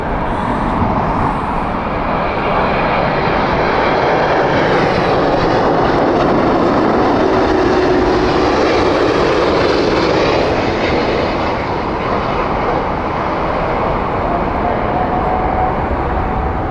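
A Delta Airbus A330neo passes close by with a loud, continuous jet engine roar and a faint whine drifting in pitch. The roar stays strong throughout and eases only slightly near the end.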